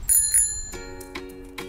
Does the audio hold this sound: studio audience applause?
no